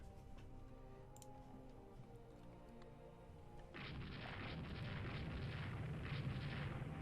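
Naval gunfire during a Rule the Waves 2 battle: tonal ambient music fades as a loud, dense roar of guns breaks in near the midpoint and rumbles on steadily to the end.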